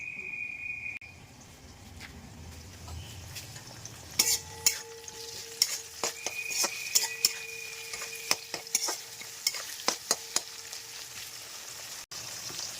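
Onions frying in a kadai (wok) with a steady sizzle, stirred by a utensil in sharp scraping clicks and taps from about four seconds on, close and fairly loud, with no talk.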